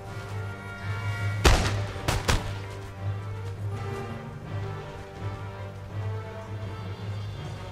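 Two sharp, loud musket or cannon blasts from troops fighting in Empire: Total War, followed by quieter scattered shots under a steady background hum.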